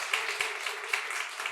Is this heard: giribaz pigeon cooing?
no